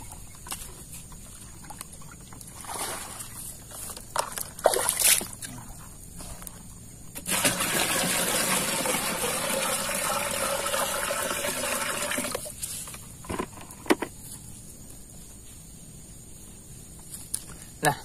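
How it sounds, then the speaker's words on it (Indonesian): Water pouring into a farm sprayer tank while mixing an eco-farming solution, a steady broadband gush lasting about five seconds, close and fairly loud, with scattered handling clunks before and after. "Terus tambahkan air."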